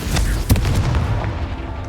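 A Confringo blasting spell explodes in Hogwarts Legacy, a sharp booming burst near the middle with a rumbling low tail that lingers amid game ambience.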